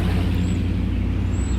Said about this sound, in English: Uh-oh, loud truck.